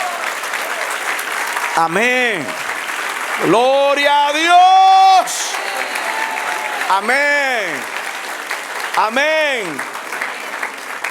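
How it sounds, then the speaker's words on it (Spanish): A church congregation claps steadily and loudly throughout while someone shouts praise over the applause in several bursts. "Dele un aplauso al Señor."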